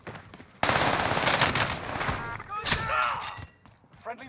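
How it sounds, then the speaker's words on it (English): Bursts of rapid automatic gunfire and shots ring out in a Call of Duty: Warzone match, loud and dense at first, then thinning into scattered shots and thuds, with a player talking over part of it. "there's a lot of shooting going on over there"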